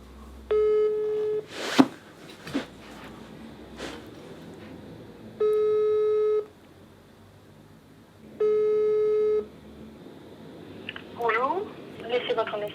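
A telephone rings out unanswered, three evenly spaced long electronic ring tones, each about a second, separated by pauses, with brief speech and other faint sounds in between.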